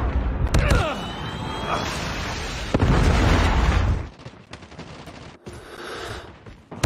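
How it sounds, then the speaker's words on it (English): A Predator missile strike in Call of Duty Mobile on a large ground-war map: a loud booming explosion and debris bursts, then a second heavy blast, with scattered gunfire and game voice callouts layered over it. "Predator missile inbound."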